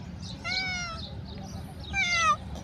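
A cat meows twice, a drawn-out call near the start and a shorter, sharper one later, close and clear over a low background murmur.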